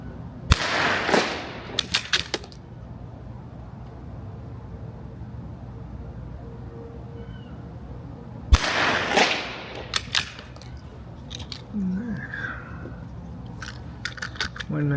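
A Ruger RPR fires .22 ammunition in two sharp, close shots several seconds apart, each followed by clicks and clatter of the action, with quiet handling noises between.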